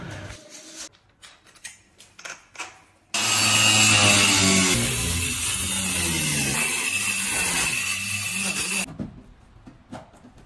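A power tool cuts an opening in a thin kitchen flue duct panel, a loud continuous grinding roar with shifting pitch that starts abruptly after a few quiet knocks and stops near the end.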